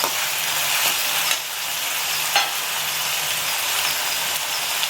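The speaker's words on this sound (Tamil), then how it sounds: "இப்போ இதெல்லாம் இந்த தாளித்து அதில் ஊற்றணும்." Spice tempering of cinnamon, cloves and fennel sizzles loudly in hot oil as it goes into a pot of mutton paya, a dense continuous close hiss and crackle with no talk.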